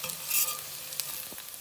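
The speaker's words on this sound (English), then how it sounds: "And now I'm gonna add 3 garlic cloves. Saute." Garlic cloves sauté with slightly charred onions in a pan for a chickpea and potato curry, giving a steady light sizzle and hiss with a few soft stirring scrapes, close and moderately quiet.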